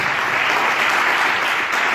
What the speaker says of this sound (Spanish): Un aplauso fuerte al Rey de Reyes